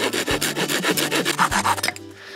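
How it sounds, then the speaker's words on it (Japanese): A hand saw rasps back and forth through a wooden stick, cut to length for a tent peg, in quick, regular strokes, close and loud, ending as the cut finishes. "長さを決めたらノコギリで切っちゃいます。"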